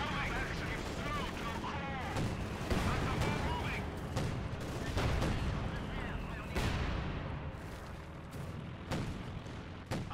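Mortar fire in a Company of Heroes 2 battle, with repeated heavy booms and explosions under a busy wash of gunfire and battle noise, while voices talk over the combat.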